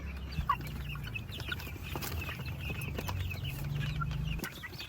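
Two-month-old chicks clucking and peeping lively in a group, with steady overlapping calls over a low rumbling background, fairly close.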